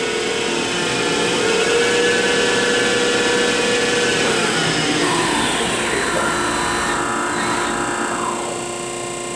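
A Harrison Alpha 400U CNC lathe spins at about 1200 RPM, giving off a close, tonal mechanical whine with layered hum; near the end the pitch sweeps and drops as the spindle changes speed.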